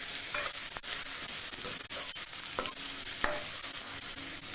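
Tomatoes cooking in a pan for a black chickpea curry, a steady sizzle and fry with occasional stirring scrapes and clicks, close and continuous.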